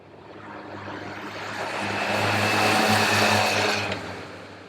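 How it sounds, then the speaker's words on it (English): A supercharged Kawasaki H2 SX motorcycle engine swells to a loud, rising howl and then eases back, a broad roar with a steady low hum running underneath. "you buy it for that howling, gutsy supercharged engine"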